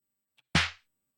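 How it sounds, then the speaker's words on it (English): A single snare drum hit from a sample, a sharp, bright crack with a short snappy decay, preceded by a tiny faint tick, isolated in silence. "And the snare is this drum, and it sounds like this."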